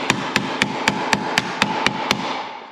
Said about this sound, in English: I'll use the edge of this hammer and I'm gonna hit right along the top of this line